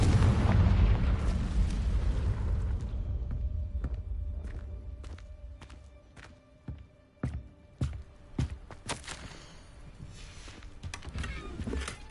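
A Confringo spell explodes in Hogwarts Legacy, starting with a loud booming blast that rumbles and fades, followed by a run of sharp separate cracks and pops of varying loudness.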